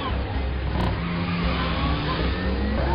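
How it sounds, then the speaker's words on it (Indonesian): Car engine revving hard as the vehicle accelerates out of a parking lot toward the main road, a steady loud mid-pitched drone sustained throughout. "Si Tono pun kemudian mengegas mobilnya ke arah jalan raya."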